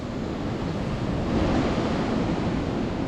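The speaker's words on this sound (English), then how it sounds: "the wind is just whistling through those towers" Wind blows outdoors on a chilly day around towers, a loud, steady broadband rush with rumbling microphone buffeting that swells slightly midway, without anyone speaking.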